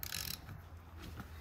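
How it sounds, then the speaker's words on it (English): A socket wrench ratchets against a stuck wrist pin in the piston of an Apollo 125cc dirt bike engine, a short burst of close mechanical clicks followed by quieter gear-like clicking. "We've got it hooked to a socket wrench. We're going to try to turn this and see if we can push that wrist pin out the other side."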